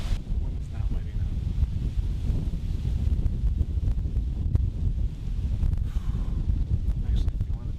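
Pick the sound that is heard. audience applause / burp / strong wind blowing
strong wind blowing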